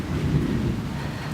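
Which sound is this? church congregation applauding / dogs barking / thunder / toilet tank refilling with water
thunder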